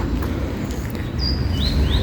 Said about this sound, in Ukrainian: Тому чуєте, як пташка співає, прямо весна.